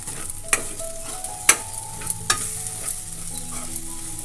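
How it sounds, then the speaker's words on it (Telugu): Coriander and cumin powder frying in a pan for a lentil fritter tamarind stew, a quiet sizzle broken by a few sharp spoon knocks and scrapes against the metal as it is stirred, no speaking. "1 టేబుల్ స్పూన్ ధనియాలు జీలకర్ర పొడి వేసుకుని బాగా వేయించుకోవాలి."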